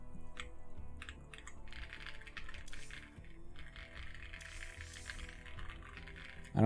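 Rapid keystrokes on a Rainy 75 mechanical keyboard, faint and steady, with soft clicks running throughout and a louder knock at the very end.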